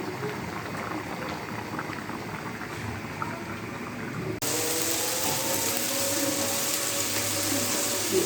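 Water poured into a pot of vegetable curry on the stove, starting as a quiet simmer, then a sudden louder, steady hissing bubble that continues to the end.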